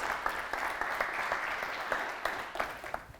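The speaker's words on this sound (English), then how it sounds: "can we have a round of applause for our first guest speaker this evening, Stephen Esketzis" Steady applause from an evening event audience welcoming a guest speaker, a dense, even patter of many hands with a few sharper claps standing out, moderately distant and continuing for several seconds without talk.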